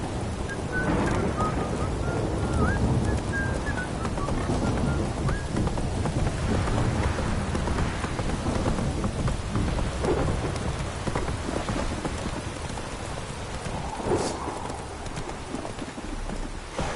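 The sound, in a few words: rain and thunder in the video game The Witcher 3: Wild Hunt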